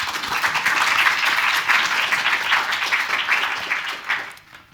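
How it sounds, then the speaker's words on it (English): Seminar audience clapping steadily after a presentation at a Nordic-Baltic arts-in-hospitals event, a dense, sustained round of applause that holds for several seconds before tapering off at the end. "Yeah, applause."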